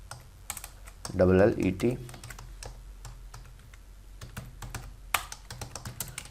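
Keystrokes on a computer keyboard while entering text in MS Word, a run of faint, scattered clicks across the clip, with a brief louder burst of other sound near the start.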